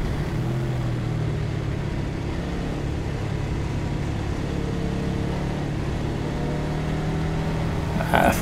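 KTM 1190 RC8 R sport motorcycle running on a race circuit, a steady engine drone with the throttle rolled off, holding a continuous low hum throughout with a brief louder blip at the very end.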